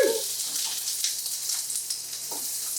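Chopped onions hit hot, smoking oil in a pan and sizzle loudly and steadily at close range, with a few soft stirring clicks.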